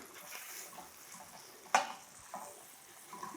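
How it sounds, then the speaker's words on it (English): Quiet, steady sizzle of lamb frying in olive oil, with a sharp clatter of a pan or utensil midway and a couple of softer clinks. "sizzling of our olive oil"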